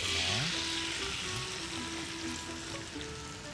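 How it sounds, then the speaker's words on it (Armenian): Fish sizzles loudly in a frying pan, a dense continuous hiss with crackling spatter, close and steady with no talk. "Արդեն ձուկը տապակի մեջ դնենք"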